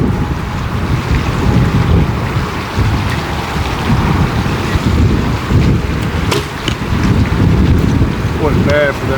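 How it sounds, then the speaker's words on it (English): Heavy, steady wind roars and buffets the microphone throughout an archery shoot, with water sloshing and a few faint creaks and clicks in the background. "We're shooting in some freaking windy conditions today"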